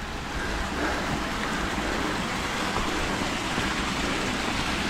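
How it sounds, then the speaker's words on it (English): Small, partially frozen cascading waterfalls along an icy mountain trail in the Great Smoky Mountains give a steady, broad rush of splashing water, continuous and fairly loud with no voices. "So more of those pretty little cascading waterfalls along the way."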